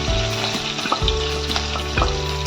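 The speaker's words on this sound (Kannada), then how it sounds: "ಸ್ವಲ್ಪ ಫ್ರೈ ಆದ ನಂತರ ಈಗ ಟೊಮೆಟೊ ಹಾಕೊಳ್ತಾ ಇದ್ದೀನಿ" Chopped tomatoes sizzle and fry in a pan with dried red chillies and green chillies, a dense steady crackle broken by a few stirring scrapes, loud and close with no voices.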